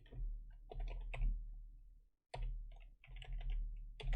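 Keys clatter on a computer keyboard in quick bursts of close clicks, with one brief pause midway before the typing resumes.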